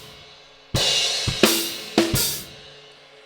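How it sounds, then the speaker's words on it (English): A drum kit plays a groove with a crash and an open hi-hat, giving a few loud, close hits whose bright washes ring out and fade, with no voices. "If you chuck a crash, open the hi-hat up a bit more,"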